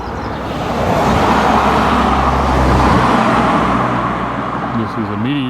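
Cars whizzing past on a road in Andorra, a loud, close, continuous roar of traffic that swells as vehicles pass, with someone talking over it.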